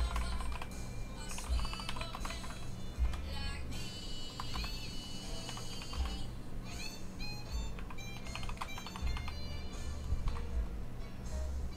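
Rapid keystrokes on a computer keyboard click close and steady in uneven bursts for the whole stretch, with brief pauses between runs.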